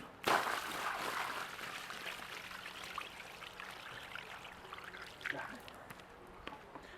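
A bucket of water is poured onto paving stones, a sudden splash followed by a fading trickle and running water, quiet and outdoors.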